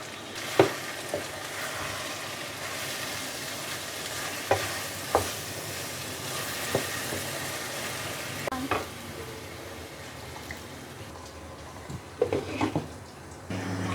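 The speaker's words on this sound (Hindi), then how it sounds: "इनको भी 5 मिनट फ्राई करेंगे।" Minced meat keema frying in a pan with dry spices, a steady soft sizzle broken by repeated spoon scrapes and clinks against the pan, close and with no talk.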